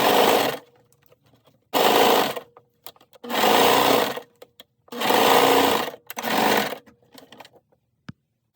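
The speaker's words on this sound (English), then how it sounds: "using a zigzag stitch, sew the elastic to the edge of the seam cuff, carefully stretching the elastic as you go" Sewing machine zigzag stitching elastic onto a sleeve cuff, four loud whirring bursts of about a second each separated by short pauses, with faint handling clicks in the gaps.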